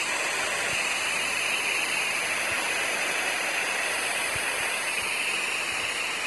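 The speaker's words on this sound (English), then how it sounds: "this is the waterfall" Steady, dense rushing water from a waterfall in a video game fills the clip, a constant broadband roar, with a few faint low thumps underneath.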